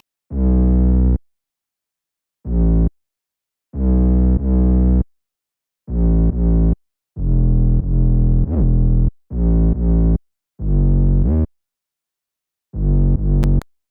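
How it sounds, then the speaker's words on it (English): Distorted 808 bass line for a UK drill beat, heavy booming notes in short rhythmic bursts separated by gaps, some sliding in pitch, played alone and loud. "I ended up coming up with the perfect 808 bass line that just matched the main melody"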